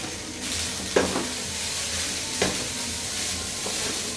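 Vegetable fried rice sizzles in a hot pan while being stirred and mixed, a steady frying hiss broken by a few sharp scrapes and knocks of the spatula against the pan, close and with no voices.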